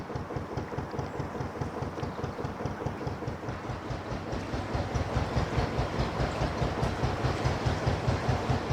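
Train rolling past near a canal at Atherstone, a steady rhythmic clickety-clack of wheels over rail joints with a low rumble that grows slightly louder as it passes.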